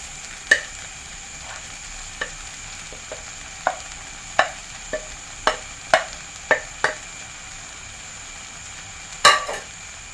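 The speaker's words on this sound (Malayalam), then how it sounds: "നല്ലവണ്ണം മിക്സ് ചെയ്ത് കൊടുക്കാം" Chopped idli pieces are stirred in a frying pan with a quiet background sizzle, punctuated by about a dozen sharp, evenly spaced spatula scrapes and clicks against the pan.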